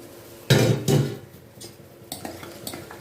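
Sago curd rice is stirred in a metal vessel, giving two loud clanking scrapes near the start and then lighter clinks and taps of a spoon against the pot, close and with no talking.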